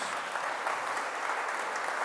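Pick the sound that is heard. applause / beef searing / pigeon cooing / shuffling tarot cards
applause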